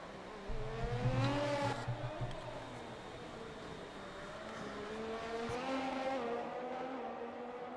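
Race car engines in the Slipstream racing video game, at the Mexican Grand Prix, scream and rise in pitch as the cars accelerate past, with a brief rumble and tire squeal early on and a sustained high whine throughout.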